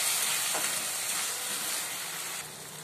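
Boiled lentils sizzle and hiss steadily in a hot pan while being stirred for sago khichuri, a close, even frying noise that drops a little in level near the end.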